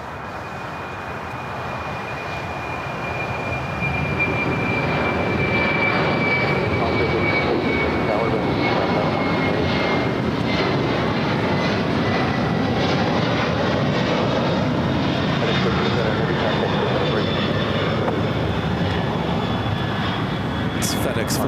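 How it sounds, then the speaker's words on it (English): A FedEx Boeing 767-300 jet bound for Memphis roars past at Los Angeles airport, its engine noise swelling after a few seconds into a loud, sustained broadband rumble with a faint whine on top. "It's FedEx flight 1379 headed to Memphis on a 767-300."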